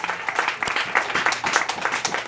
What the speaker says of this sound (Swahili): Chapia Yesu makofi ya hapa.